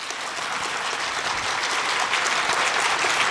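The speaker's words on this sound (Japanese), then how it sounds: "では皆様拍手でお迎えください。" An audience at a shogi Ryuo tournament award ceremony applauds the group winners coming on stage, giving a thick, sustained wash of clapping that swells slightly toward the end.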